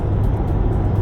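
Steady broadband rumble of wind and road noise heard from inside a 2026 Kia EV6 RWD 84 kWh electric car on the move, with a soft airy hiss around the mirrors.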